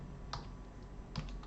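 Soft keyboard taps on a computer keyboard, two brief clusters of keystrokes over a steady background hiss, with no speech.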